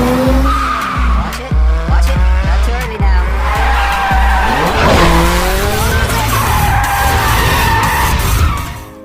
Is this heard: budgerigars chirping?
no